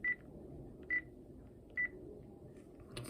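Panasonic cordless telephone keypad giving three short, clear electronic beeps spaced roughly a second apart over a quiet room hum.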